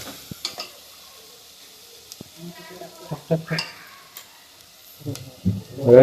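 Mutton masala roasting in a pan gives a soft, intermittent sizzle with scraping stir strokes, building to a louder, closer burst of frying near the end.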